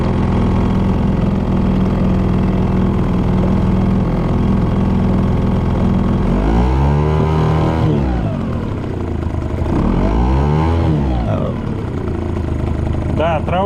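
An outboard motor mounted on the transom of an Aqua-Master 280 boat runs loud and close, holding a steady drone with two rising and falling revving swells midway.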